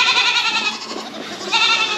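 Goats bleat loudly and close by on a working goat farm, a continuous nasal, wavering cry that briefly dips and then swells again, with no talking over it.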